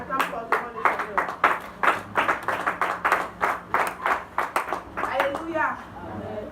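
A church congregation claps in a fast, steady rhythm of sharp hand claps, with voices rising underneath in acclamation, then the clapping loosens and fades toward the end.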